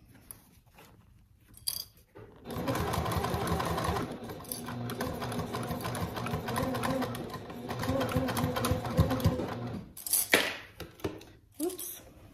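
Domestic sewing machine stitching fabric for a trick-or-treat bag, a steady close whirring run of about eight seconds with brief handling clicks and rustles before and after.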